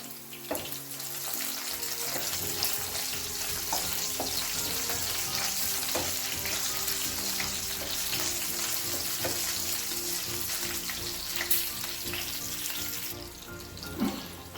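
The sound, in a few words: green chillies frying in a pan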